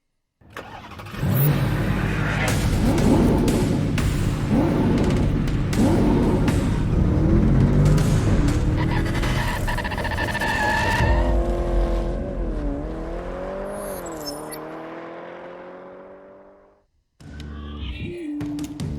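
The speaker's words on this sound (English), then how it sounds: "So we get ready to go 50 laps of pro truck racing here tonight at Auburndale Speedway." Pro trucks race at Auburndale Speedway, a loud, dense engine roar that holds steady, then rises and falls as trucks pass and fade before another surge returns at the end.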